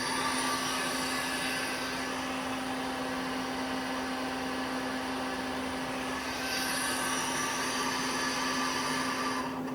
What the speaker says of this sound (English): We're running the gang live tooling right now.